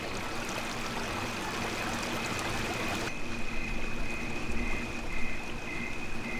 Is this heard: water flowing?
yes